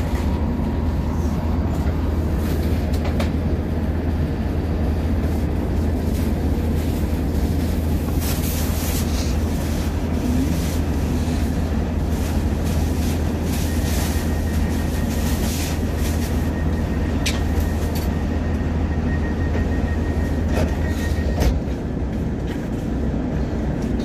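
A CrossCountry Class 170 diesel train runs on the line between Nottingham and Tamworth, giving a steady, continuous rumble and rattle from on board, with wind and track noise and a few faint clicks over the top.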